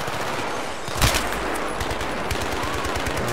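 Dense, continuous gunfire in a Battlefield 3 battle, with rapid overlapping shots and one heavier boom near the start, loud and unbroken throughout.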